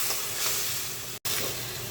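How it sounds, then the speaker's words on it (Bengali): Pieces of boal fish dropped into fried spice paste in a pan set off a loud, dense, steady sizzle that fills the whole stretch, broken only by a split-second gap, with no talking. "মশলাটা কষে গেছে, আমি বোয়াল মাছ দিয়ে দিলাম"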